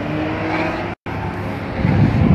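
A Porsche GT3 race car at Sebring passing on the track, a loud, close engine roar with a brief dropout midway, then rising again as it goes by.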